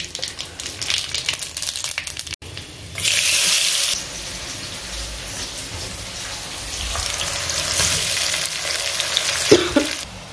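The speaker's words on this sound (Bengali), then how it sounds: "তেলে এখানে শুকনো লঙ্কা ছেড়ে দিয়েছি" Dried red chilies and whole spices like cardamom, cinnamon and mace fry in oil with a close, steady sizzle, broken by louder bursts and stirring sounds.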